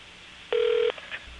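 A single steady telephone tone on a payphone line sounds for under half a second, loud and clean over a faint line hiss, followed by a couple of softer blips.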